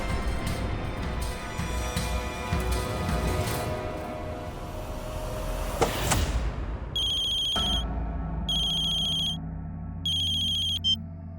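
A telephone ringtone sounds in three repeated bursts after a stretch of noisy background, fairly loud and clear.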